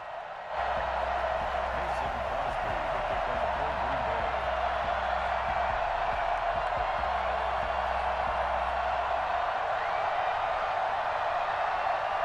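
A Baltimore stadium crowd in the Madden NFL 21 video game keeps up a steady, moderately loud roar of cheering, with a low droning hum beneath it throughout.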